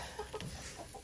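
Backyard chickens cluck softly in a coop, a few faint short calls scattered over about a second against steady background noise.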